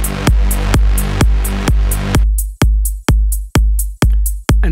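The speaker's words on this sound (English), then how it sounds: "Then I added a closed hi-hat, which has this reverb and a little bit of a phasing effect on it." Electronic drum pattern of punchy kicks, about nine evenly spaced hits, layered with a closed hi-hat carrying reverb and a slight phasing effect; the tail fills the gaps at first, then the hits stand dry and clipped.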